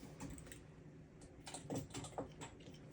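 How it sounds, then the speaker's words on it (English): Small keycap fidget toys clicking close up, a quick irregular patter of light plastic taps much like keyboard typing, with no voices. "I got these little keycap fidget toys and they're really fun."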